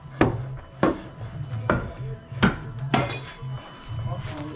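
A hammer strikes a roughneck bar about five times in a slow, uneven rhythm, loud, sharp metallic clanks close by, with people talking quietly in between during work replacing a roof and laying new gas mains.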